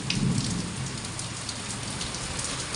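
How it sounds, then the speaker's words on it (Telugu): Heavy rain pours in a dense, loud roar with a low rumble of thunder near the start, steady and unbroken throughout without voices. "ఎంత పెద్ద వర్షం"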